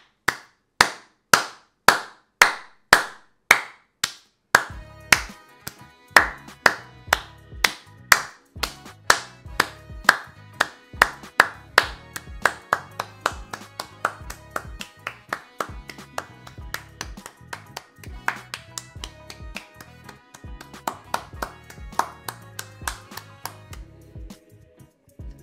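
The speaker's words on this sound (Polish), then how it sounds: "Ja tylko rączki do góry już daję i zaczynam klaskać" One person claps hands in a steady, sharp rhythm, loud and close, keeping it up throughout while a music track and a voice sit faintly underneath.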